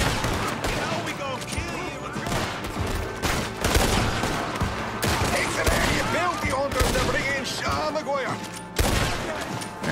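Repeated gunshots ring out in a Red Dead Redemption 2 shootout, sharp cracks scattered across a loud, busy battle with shouting voices and talk mixed throughout.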